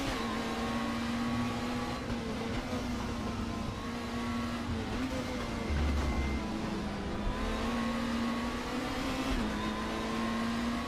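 A BMW race car engine in RaceRoom holds a sustained high whining drone with small pitch shifts as it accelerates and eases, steady and close throughout, no talking.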